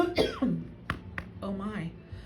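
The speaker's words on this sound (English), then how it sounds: "Just a little dry cough there." A couple of short, sharp dry coughs break up quiet indoor speech, each one brief and close to the microphone.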